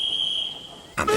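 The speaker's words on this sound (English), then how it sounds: "The guard blew the whistle" A railway guard's whistle sounds in a steady, high, piercing tone held for about a second on a small narrow-gauge line, then breaks off as a voice starts speaking.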